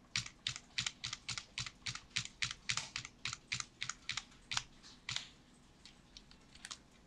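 Crisp, fairly quiet clicks of bracket keys being pressed on a computer keyboard, about twenty taps in a steady, quick rhythm before the tapping stops, with no talk.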